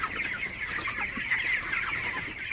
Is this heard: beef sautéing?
no